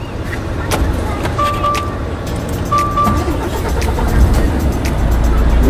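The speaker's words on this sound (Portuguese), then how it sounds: "Liga o carro!" A car engine runs steadily and close by with a constant rumble throughout, and a few faint high tones sit above it. The actual moment of starting is not distinct.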